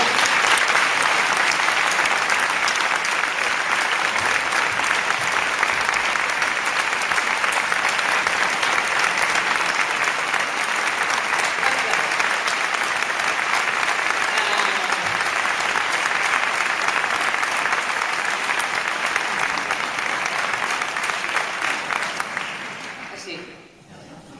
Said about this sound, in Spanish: Me gustaría que recibamos con un fuerte aplauso a la gran Rosa María Sardá